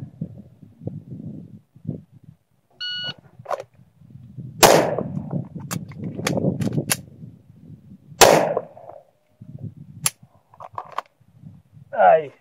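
A video game shooter fires a few isolated gunshots, sharp and close, spaced out over muffled game noise. Someone talks between the shots.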